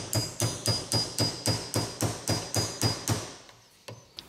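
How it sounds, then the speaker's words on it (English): A nail is hammered through a small leather shim, with about a dozen evenly spaced, sharp metallic hammer blows ringing close and loud, then a pause and one lighter final tap. "and then hammer it in"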